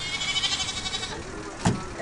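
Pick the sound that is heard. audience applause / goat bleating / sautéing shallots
goat bleating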